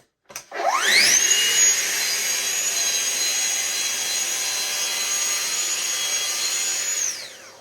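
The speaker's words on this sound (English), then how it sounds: "Hold your guide rail and then do your cut." A Festool track saw rips wood along its guide rail: the motor spins up with a rising whine, holds a loud steady cutting roar for several seconds, then cuts off abruptly, with no one speaking.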